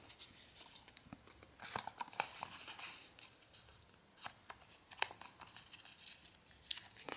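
Scissors snipping through paper while cutting out pieces for a Pokémon Eevee papercraft, a series of quiet, irregular crisp snips and rustles close by.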